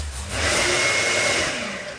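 Sanding a resin repair on a surfboard: a steady, fairly quiet whirring drone from a power sander that ramps up, holds and then slowly eases off, with no talking.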